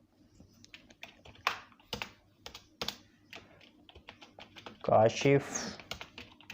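Keys clatter on a computer keyboard in short irregular bursts, close and moderately loud, with a voice speaking over part of the typing.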